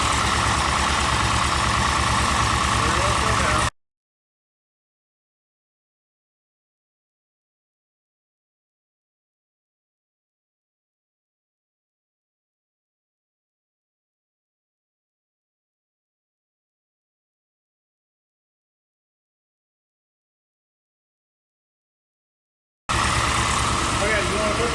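A 2008 Chevrolet Suburban with a new engine runs during a test drive, its engine droning steadily with cabin road noise and people talking, then dropping to a long silence before the drone returns.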